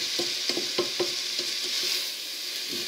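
Savory cake batter with endives and bacon bits being stirred in a bowl, with repeated scraping strokes in a steady rhythm over a constant background sizzle, close up with no talking.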